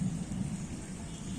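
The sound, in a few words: rumbling thunder with rain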